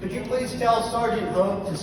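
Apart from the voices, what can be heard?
No distinct noise like a dog, phone or traffic.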